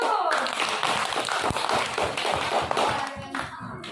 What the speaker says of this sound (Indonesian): Ayo tepuk tangan dulu.